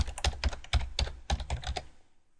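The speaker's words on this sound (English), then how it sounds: "so I'll type that in here." Keys clatter on a computer keyboard in quick bursts as text is entered into a software form, close and clear with no talking, trailing off into quiet at the end.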